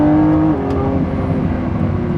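A Lamborghini Revuelto's naturally aspirated V12 screams at high revs, a loud sustained engine note that holds a steady pitch and then eases off slightly, with no talking.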